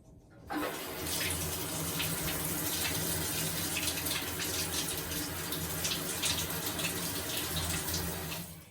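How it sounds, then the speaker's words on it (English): Tap water pouring through each leg of a trombone inner slide, a steady loud gushing rush that starts after a brief moment of quiet and runs on without pause. "we'll run the water through each leg, or each piece, and it just goes straight through"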